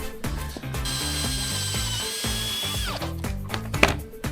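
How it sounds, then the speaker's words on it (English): Drilling through a mounting plate on a Kobelco excavator, a close, loud, continuous whirring that rises and falls in pitch as the bit bites, then winds down after a few seconds, followed by clicks and clatter. "we're going to have to drill that"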